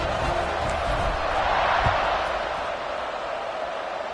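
A stadium crowd roars and buzzes steadily at a college football game between Georgia Tech and Pitt, a dense, continuous wash of distant cheering with no break across the stretch.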